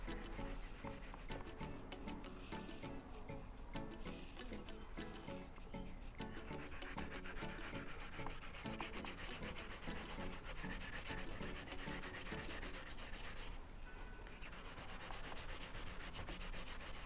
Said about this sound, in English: When you finish grating your yam and your sweet potato